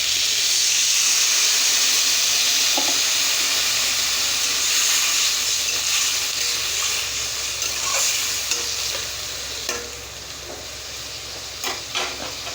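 Vegetable stems in a pan hiss and sizzle steadily after water is poured in, a loud, close, continuous frying noise with faint stirring clicks that softens slightly toward the end.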